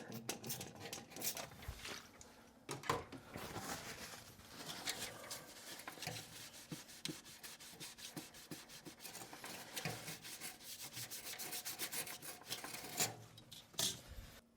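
Rubbing alcohol wiped by hand across laser-engraved anodized aluminum, giving a soft, continuous rubbing and rasping scrub with faint patter, close and quiet, with no voices.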